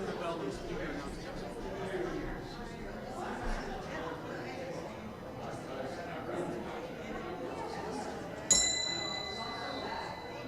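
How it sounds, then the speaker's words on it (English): During a church service, a bell is struck once before an announcement, a bright ringing ding that decays slowly after a stretch of murmuring crowd chatter and talk. "we're going to ring the bell"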